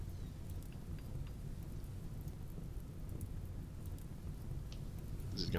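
Steady rain falls with a low, continuous thunder rumble in the RimWorld video game, a dense, even wash of sound with no voices.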